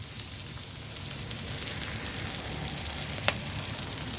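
Onions tipped into a pan of stir-frying green beans crackle and sizzle steadily at close range, a continuous hiss with small pops and one sharp spatter near the end.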